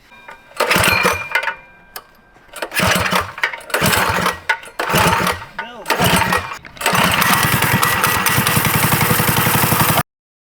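A 13 HP mini bike engine, freshly fitted with an upgraded carburetor, sputters and revs in uneven bursts under talking, then settles into a loud, steady close-up drone.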